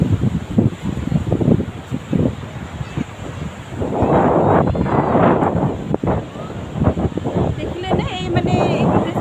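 Strong sea wind buffets the microphone at Aarnala beach in Mumbai, with rolling surf surging in gusty bursts, close and loud, and no voices.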